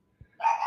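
A pet dog barks indoors in reaction to a trash truck outside: a short low thump, then a sustained bright yelping bark rising quickly and staying loud to the end.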